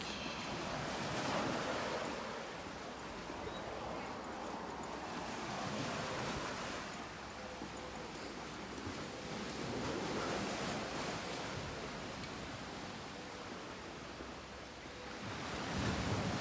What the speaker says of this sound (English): So headed to the beach.